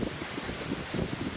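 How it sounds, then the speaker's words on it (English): Strong wind gusts at about 30 to 35 mph in Boca Raton, Florida, roar steadily across the microphone as a low, rumbling buffet that swells and eases in uneven pulses, with no voices. "The wind gusts, I mean, it's like the wind must be competing at 30 miles per hour."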